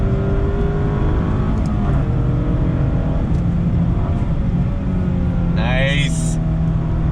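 A 2020 Mazda MX-5 RF engine revs and pulls hard through the gears, loud and close with the top up, with a brief high whine near the end.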